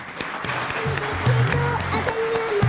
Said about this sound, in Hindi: इन सब के लिए बहुत सारी तालियां।